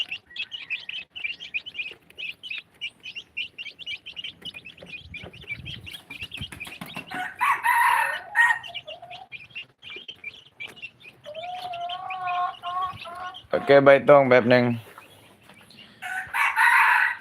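Laying hens and a rooster at feeding time: repeated clucks and chirps run throughout, with loud crowing bursts near the middle and end and someone talking briefly at the start.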